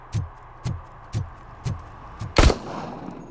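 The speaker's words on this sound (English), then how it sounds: "they're just shooting guns" Gunfire in the Robocop video game, with four evenly spaced single shots and a louder, sharper blast near the end, close and punchy with no talk over them.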